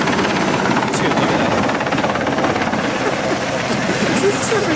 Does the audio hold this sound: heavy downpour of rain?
no